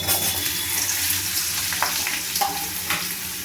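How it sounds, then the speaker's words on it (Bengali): Cubed papaya and potato frying in a wok over spiced tempering, giving a steady, close, hissing sizzle with light clinks and scrapes of stirring throughout. "পেঁপে আর আলুটা আমি লাল লাল করে ভেজে নেব।"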